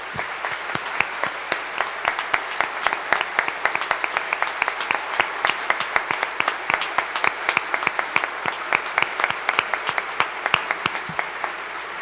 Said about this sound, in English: Please join me in applauding our Canadian neighbors for financing this project